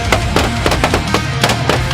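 Sharp shotgun blasts while hunting over decoys, several loud reports cracking out in irregular succession over steady wind and rustling background noise.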